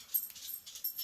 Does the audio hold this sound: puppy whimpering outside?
yes